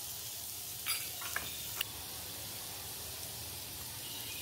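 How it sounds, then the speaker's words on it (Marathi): Ragda patties mixture sautéing in a pan gives a steady, soft sizzle and hiss, with a few brief scraping clicks near the start and then an even frying noise to the end. "हे परतून घेऊ 2-3 मिनिटं आपण."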